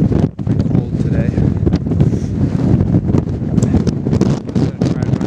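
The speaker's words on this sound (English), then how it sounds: "It's getting pretty windy." Strong, cold wind on Grotto Mountain above the Bow Valley, heard as constant loud buffeting and roaring gusts on the microphone from start to finish.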